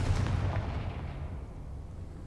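A fire spell blast in the Hogwarts video game, a dense booming burst that opens loud and rolls off over a couple of seconds, with no voices.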